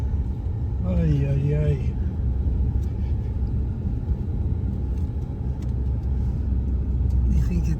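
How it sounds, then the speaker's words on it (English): A car creeping slowly up a dirt road at about three miles an hour, a steady low engine rumble throughout, with a brief vocal exclamation near the start. "driving up a dirt road to go retrieve the Grape Ape"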